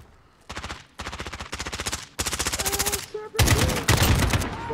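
Gunfire in Call of Duty Modern Warfare, online multiplayer: loud, rapid automatic bursts in several long strings, growing heavier toward the end, with no talk over it.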